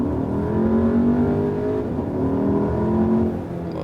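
Small petrol engine in a mid-size family car accelerating hard in sport mode, heard from inside the cabin as a rising rev tone, then a short dip at a gear change before climbing again.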